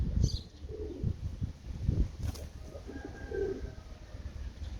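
Kerkük pigeons coo softly in a loft, low murmuring calls over a faint background with a brief chirp and a rustle of wings, fairly close.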